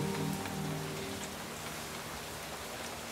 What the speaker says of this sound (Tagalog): Malakas ang ulan, ha?